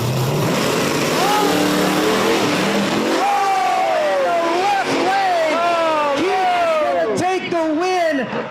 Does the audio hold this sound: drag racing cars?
yes